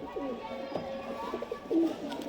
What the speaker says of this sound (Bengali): অন্ধ্রা মঙ্গলগিরির পায়রা দেখুন